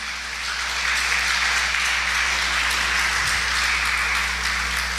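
Applause at a church sermon, a dense, even wash of clapping heard at moderate distance and held steady for about five seconds over a faint hum, with no talk.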